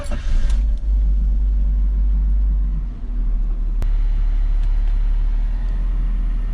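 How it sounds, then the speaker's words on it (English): A BMW E46 wagon engine idles very low, a steady deep rumble close by with a brief dip and one sharp click, no talking over it. "The car's idling like freakishly low."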